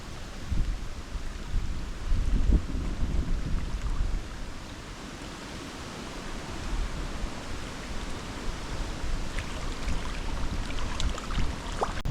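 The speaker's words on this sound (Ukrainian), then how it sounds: "у нас ще сильніший вітер" Strong wind buffets the microphone outdoors beside water while crucian carp feeder fishing, a steady rough roar with gusts and no talk.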